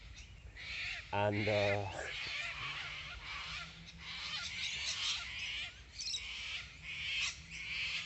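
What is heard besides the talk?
cockatoos screeching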